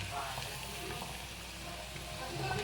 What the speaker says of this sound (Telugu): సో ఇవి డీప్ ఫ్రై అవుతున్నాయి